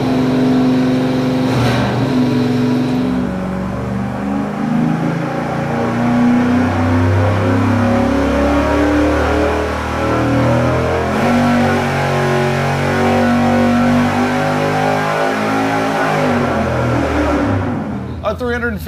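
Engine on a dyno with a 150-horsepower nitrous system and the bottle open, running loud and steady the whole time, with a sustained, layered roar and rev changes, then cutting off near the end.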